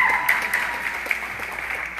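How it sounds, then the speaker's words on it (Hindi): A live concert audience claps for the dancers, a dense steady wash of applause filling the space with a few sharper claps poking through, and no speech. "वो जो भी सब डांस कर रहे थे उनके लिए ताली बजा दीजिए"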